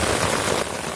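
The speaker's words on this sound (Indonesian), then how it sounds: "Ah, hujan." Rain falls in a steady wash outdoors, a dense constant patter on surfaces with no talk.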